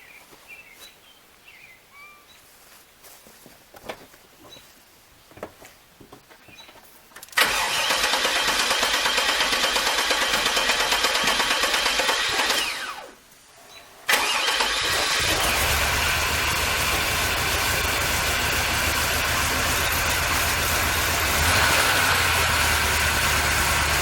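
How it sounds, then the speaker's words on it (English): A 1999 Chevrolet Suburban K2500, parked unused for a long time, cranks briefly, cuts out, then starts again and settles into a steady loud idle; faint birds before the start. "So we're going to start her up and get her going."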